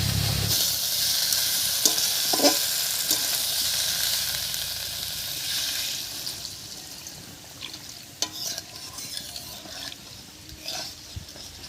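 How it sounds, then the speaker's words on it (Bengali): Water pours into a pan where pumpkin stems and river fish are sizzling for a village-style Bengali fish curry, a loud steady hiss and bubbling that settles into quieter simmering with a few scrapes and knocks. "সব কিছুর সঙ্গে মিষ্টি কুমড়ো ডাটাটাও পাঁচ ছয় মিনিট মতো কষিয়ে নিয়েছি এবারে ঝোলের জন্য জল দেবো"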